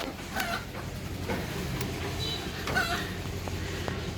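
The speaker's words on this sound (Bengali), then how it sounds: "আমার মুরগি হলো ছয়টা না পাঁচটা মুরগি একটা মোরগ" Backyard hens and a rooster, five hens and one cock kept for eggs, clucking in scattered bursts under a steady rough background, fairly near and moderately loud.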